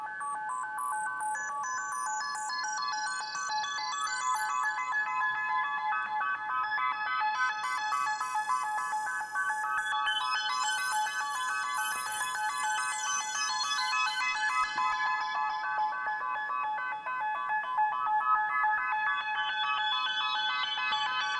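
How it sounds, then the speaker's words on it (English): A modular synthesizer plays looping patterns of fifths on four MIDI channels, synchronized but offset in timing, forming a steady, bright, shimmering electronic drone that sweeps slowly in tone, with no talking. "then I'll have MIDI channels 1 through 4 playing the same loops, all synchronized, but just different times so that they're wibbling around"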